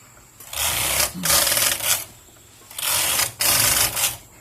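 A Toyota knitting machine with a ribber clatters through its racking movement in two pairs of loud mechanical whirring passes separated by short quiet gaps, with no talking.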